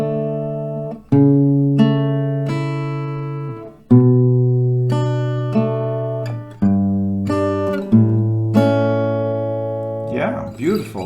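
An acoustic guitar slowly plucks a melody from D, clear single notes and pairs ringing out one after another, close and unaccompanied.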